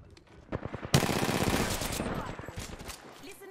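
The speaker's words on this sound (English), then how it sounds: "Listen up, I'm getting shot there." Sustained automatic gunfire in Apex Legends erupts abruptly after a brief lead-in, a loud, dense burst of rapid shots hitting the player that gradually thins out, with faint talk underneath.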